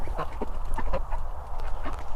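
Greedy domestic ducks quack close by, several short nasal calls tumbling over one another in quick succession against a low rumble.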